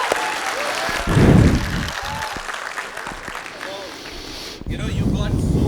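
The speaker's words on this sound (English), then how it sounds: "Big round of applause" An audience applauds a speaker at a Laracon India 2025 tech talk, a moderate burst of clapping with some voices and background noise, swelling briefly near the start and again at the end.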